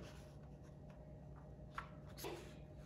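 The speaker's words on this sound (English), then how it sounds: "First, take your paper and fold it in half like this." Paper is folded in half for an origami Indian flag, with faint soft rubbing and a light crease sound over a quiet background.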